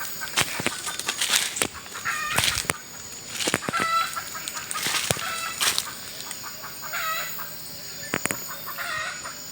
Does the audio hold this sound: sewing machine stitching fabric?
no